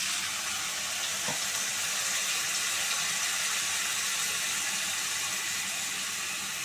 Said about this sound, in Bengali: এবার কষাবার জন্য একটু জল দিয়ে দিলাম